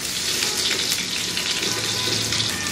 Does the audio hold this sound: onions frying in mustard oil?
yes